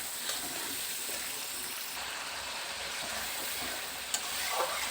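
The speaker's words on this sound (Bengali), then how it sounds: "সেদ্ধ করা মটর দিয়ে দিচ্ছি" Boiled peas stirred into frying masala of chili paste and tomato, a soft continuous sizzle with faint stirring scrapes and a small clatter near the end, no voices.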